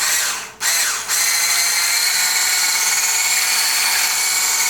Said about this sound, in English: It has an immersion blender, food processor, a whisk attachment